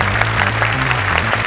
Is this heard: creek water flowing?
no